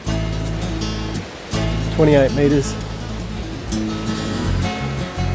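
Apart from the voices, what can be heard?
Thunder Falls waterfall, New Zealand West Coast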